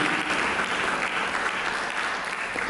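A church congregation applauds, a steady dense wash of many hands clapping for a few seconds, fairly loud and continuous, with no talking.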